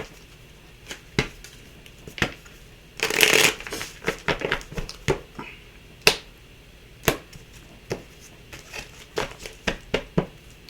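Oracle cards from an Art of War deck shuffled by hand for a morning reading: a steady run of crisp riffling snaps and flicks, with one denser flurry early on, close and fairly quiet with no talking.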